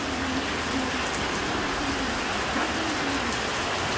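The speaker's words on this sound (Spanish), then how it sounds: "sorprendido porque está lloviendo de día" Steady daytime rainfall in Chalatenango, El Salvador, patters continuously on surfaces, a dense hiss of drops with no voices.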